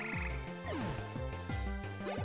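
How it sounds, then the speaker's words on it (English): A toad Pokémon's cry in Pokémon Black 2, a series of rapid warbling, sliding electronic croaks that bend up and down, loud and alone. "Toad, nice sound you made there."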